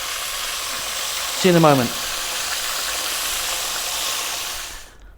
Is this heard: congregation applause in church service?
no